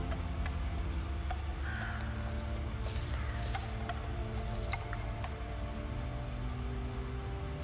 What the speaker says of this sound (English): Let's scare out those stupid birds.